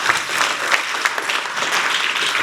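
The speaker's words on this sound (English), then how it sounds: "Give a round of applause for yourself." Audience at a university fraternity chapter's centennial celebration applauds, a dense, steady wash of many hands clapping at close range, sustained throughout with no break.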